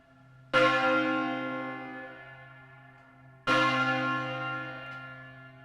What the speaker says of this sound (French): La cloche s'élève peu à peu jusqu'au maintien à la verticale